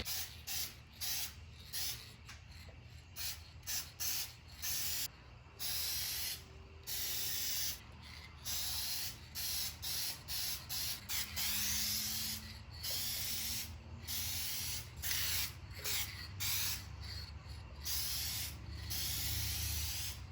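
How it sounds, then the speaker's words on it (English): Aerosol spray paint hissing onto a 2006-10 Dodge Charger trunk in repeated bursts, short gaps between passes, close and steady. "I just got some Decal paint match paint. Start spraying."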